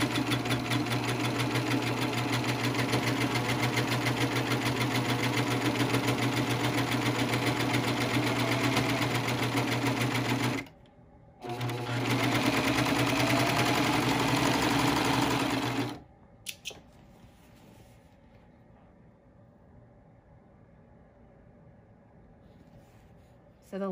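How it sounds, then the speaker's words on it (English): Serger sewing machine stitching and trimming fabric while taking in a mini skirt, a loud, steady, close whir that stops briefly, resumes, then cuts out to near quiet with a few faint handling clicks. "So we're going to place this under the serger, and I have my needles up so I can sit it flat under there."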